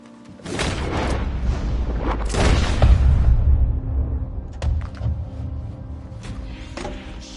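Heavy gunshots ring out in Red Dead Redemption 2, two loud booming reports about two seconds apart followed by a rumbling tail and a few fainter thuds, with no talking.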